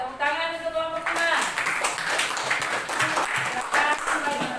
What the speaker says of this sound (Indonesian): Nah, tepuk tangan untuk kelompok 5.